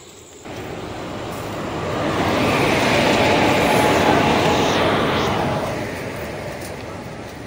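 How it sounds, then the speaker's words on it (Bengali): A train rumbles into a station steadily, growing louder as it draws near with a broad rushing roar, then slowly easing off as it slows. "ট্রেনটা চলে আসলো"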